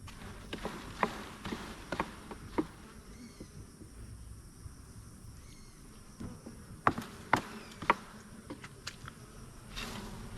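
A steady, soft hum of honeybees buzzing around an open hive, with scattered faint clicks and taps over the low continuous drone.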